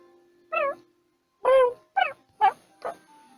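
Five short cat meows in The Arcana video game, clear and close with brief pauses between them, the first one isolated and the last four coming in quicker succession.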